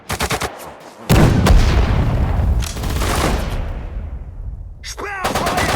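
Destroyer gunfire in the WWII strategy game Sudden Strike 4 at Dunkirk: a rapid burst of shots, then a loud sustained blast with rumbling battle noise that slowly fades, ending in a short whooshing sweep and more firing.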